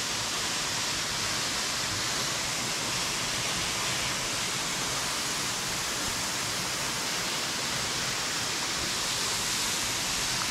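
A steady, dense rush of water falling off a rock overhang at a waterfall in Royal National Park, a constant hissing roar without variation or voices.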